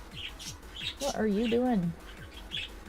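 Pet birds chirp indoors in a home, with short bright tweets repeating through the clip and one longer warbling call in the middle, while a person speaks briefly over them.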